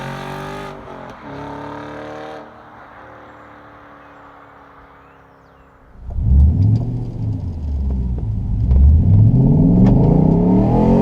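An Audi RS4 B7 exhaust while driving: a quiet idle-like stretch, then loud revving and acceleration with rising and falling engine pitch, close and strong.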